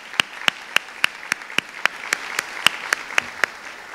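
Sharp, evenly spaced hand claps from a symposium audience come about four per second, crisp and fairly close, in a steady rhythmic round of applause.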